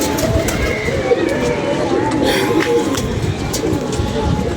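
A bird-catcher's pigeon, one with marked feathers, coos softly among a flock at a loft, a low continuous murmur under constant background noise and occasional distant voices.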